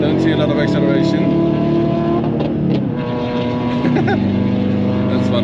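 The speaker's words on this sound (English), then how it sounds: "This car makes a lot of noise, but I don't see a lot of acceleration." Dodge Challenger R/T muscle car engine roaring loudly while driving, a sustained throaty drone with rising and shifting revs, heard close from inside the cabin.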